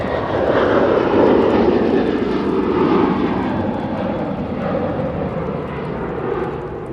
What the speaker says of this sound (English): there goes the Aer Lingus